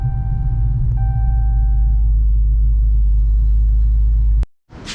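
A Chrysler 300 fitted with a tuned Hellephant engine drives along, a loud, deep steady rumble filling the cabin before it cuts off abruptly near the end.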